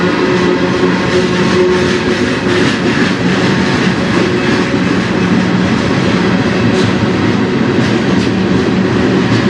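A CN freight train rumbles past at night on the Strathroy Subdivision, close and loud, with a continuous roar of rolling wagons and faint steady clickety-clack from the wheels throughout.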